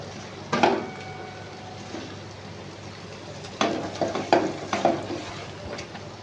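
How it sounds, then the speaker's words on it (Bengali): Paneer masala cooks in oil in a pan under a quiet, steady sizzle. Bursts of scraping and stirring come early and then again in a busier cluster toward the end. "এবার এটা যতক্ষণ তেলটা না ছাড়বে আমি এটাকে কষাবো।"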